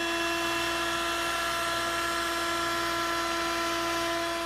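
A wood router fitted with an ogee bit shapes the top edge of a wooden side table frame, a steady high-pitched whine with tonal harmonics running unbroken and loud throughout.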